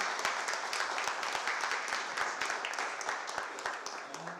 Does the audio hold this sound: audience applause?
yes